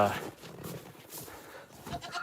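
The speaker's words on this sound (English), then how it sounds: "to start with letting the goat and donkey out of their area" Goat on a homestead bleating briefly near the start, then faint farmyard sounds while a person talks over them.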